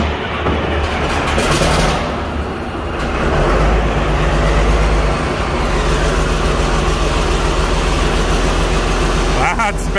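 A straight-piped Caterpillar D7G bulldozer engine runs loud and steady throughout, a dense continuous rumbling roar with no pauses, close by.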